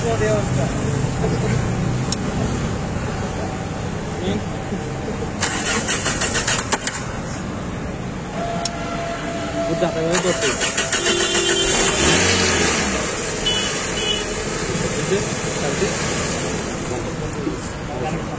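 A car engine starts in neutral during a driving school lesson in Sylhet, with cranking and engine noise in bursts under steady talking.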